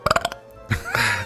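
A burp bursting out mid-conversation, a short rapid series of croaky belching pulses followed by a longer voiced one, loud and close.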